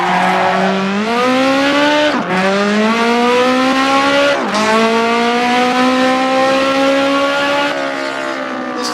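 A modded race car tears through a hot lap in a racing game, its engine screaming in a steady high whine that climbs through gears with two sharp drops at shifts, loud and continuous with faint tire noise.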